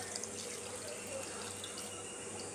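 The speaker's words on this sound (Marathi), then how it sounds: "आता ह्याच्यात हा अर्धा तांब्या पाणी घालते." Water poured from a small pot over washed jackfruit pieces in a home kitchen, a steady, close splashing and running sound that continues throughout without talk.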